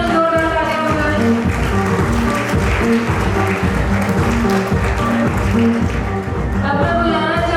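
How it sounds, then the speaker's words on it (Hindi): An audience at a company foundation day award ceremony applauds over loud rhythmic music with a pounding beat. The clapping forms a busy wash beneath the music that continues throughout. "Ladies and gentlemen, जोरदार तालियां बजाएं।"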